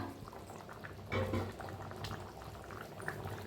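Batata usal potato curry simmering covered over a lowered gas flame, a soft continuous bubbling with a brief louder burst of liquid noise, faint and close.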